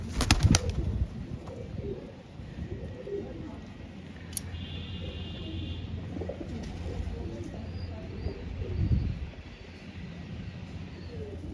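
Pigeons kept by a fancier, with soft low cooing and a burst of wing flapping near the start, set against a faint outdoor background hum.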